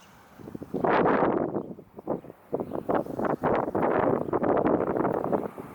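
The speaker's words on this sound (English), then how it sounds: "Man, it's so windy out here." Strong wind buffets a microphone outdoors in gusty, roaring bursts that swell and fade, loud and close, with no other sounds standing out.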